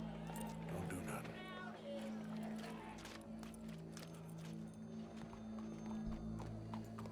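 Horse hooves clip-clopping in Red Dead Redemption 2, a steady rhythm of hoofbeats with an occasional whinny, set against a constant game ambience with voices talking over it.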